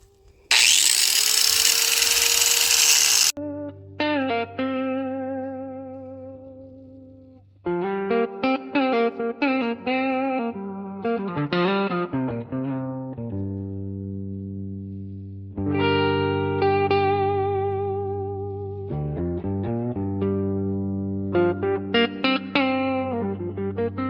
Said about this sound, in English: I've got an angle grinder right here. I can just shave off what I need